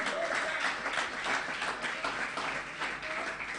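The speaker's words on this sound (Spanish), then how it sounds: "Aplauso para o Senhor." Church congregation applauding during a worship service, a steady wash of many hands clapping that fills the room without pause, with a faint voice buried underneath.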